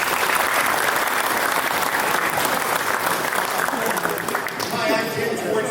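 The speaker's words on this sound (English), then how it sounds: "So give yourself a round of applause." Sustained applause from an audience at a high school basketball banquet, steady and dense throughout, with some voices mixed in near the end.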